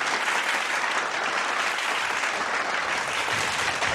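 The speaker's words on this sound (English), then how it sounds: "we should give you a round of applause" An audience gives steady, even applause, dense and continuous clapping at a moderate level for several seconds, with no voices standing out.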